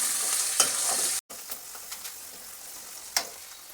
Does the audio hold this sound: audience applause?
no